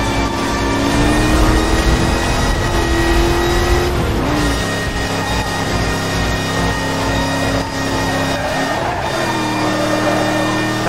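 A Porsche racing car engine revs steadily in a retro racing video game, a loud continuous drone with shifting pitch as the revs rise and dip, accompanied by tire noise and no talking.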